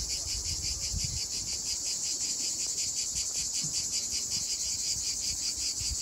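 Loud, pulsing cicada song fills the air on a steep seaside path in Koktebel, in a continuous rhythmic drone, with faint low rustling beneath.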